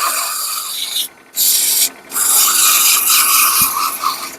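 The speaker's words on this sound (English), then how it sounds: "I'm going to do a little quick sanding on this edge right here with some 120 sandpaper" Quick hand sanding along a workpiece edge with 120-grit sandpaper, a loud, close, steady rasping scrub broken by two short pauses, then continuing in even strokes.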